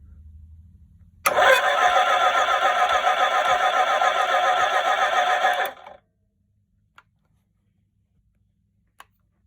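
A 1978 Suzuki GS550E motorcycle engine, being recommissioned, cranks and fires in a loud, close burst lasting about four seconds. It cuts off abruptly into near silence, followed by a couple of faint isolated clicks.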